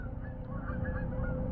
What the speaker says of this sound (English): and there's geese here. Let me show you the geese.